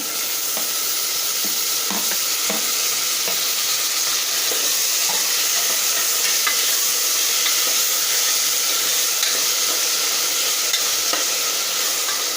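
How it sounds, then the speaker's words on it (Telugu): Tomatoes with ginger paste fry in a pan for masoor dal, a loud continuous sizzle with repeated scraping stirs from a spoon throughout and no talking. "అల్లం పేస్ట్ వేసుకున్నాక టమాటా వేసేసుకోండి."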